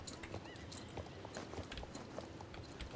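Horses walking in a paddock in the Star Stable video game, with steady clip-clop hoofbeats in a loose rhythm and a brief faint whinny, moderately loud and without talk.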